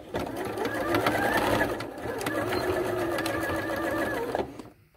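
Sewing machine stitching the boxed corners of a fabric zippered pouch, a steady close whirring run lasting several seconds with a brief dip midway before it stops.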